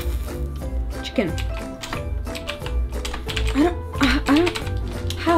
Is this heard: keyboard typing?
yes